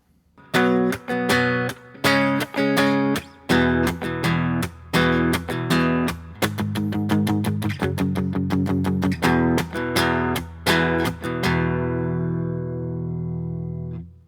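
Distorted electric guitar power chords from a song chug in steady rhythmic stabs, with quicker palm-muted bursts midway, ending on a long ringing chord that fades out.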